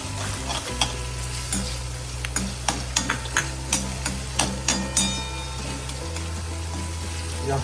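Garlic sizzles in hot oil in a steel pan while a utensil stirs and scrapes with repeated sharp knocks against the metal, over a steady low hum, with no talking.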